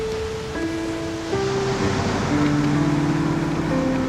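Sea waves wash in a steady, broadband roar close by, mixed with sustained musical tones layered over the surf.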